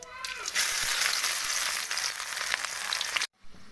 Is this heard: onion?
yes